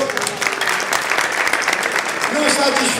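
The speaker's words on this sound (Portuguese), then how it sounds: "Palmas de novo para Fausto Glória, por favor" Applause from an audience at an insurance industry awards gathering, steady clapping filling the short stretch, with a voice speaking over it.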